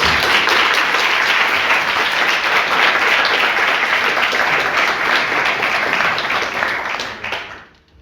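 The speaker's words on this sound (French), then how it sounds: "S'il vous plaît, veuillez applaudir Max Forcina." A crowd at a Joute de Vinci event loudly applauds Max Forcina, a sustained burst of dense clapping that holds for several seconds before tapering off quickly.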